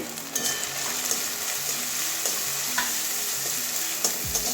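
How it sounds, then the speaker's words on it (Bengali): Turmeric and ginger-garlic paste fry in a pan for a taro stolon curry, giving a continuous crackling sizzle up close with repeated stirring scrapes and a few sharp clicks of a spoon. No one speaks. "এটাও কাঁচা গন্ধ যাওয়া পর্যন্ত ভাজবো হলুদ দিয়ে দিচ্ছি"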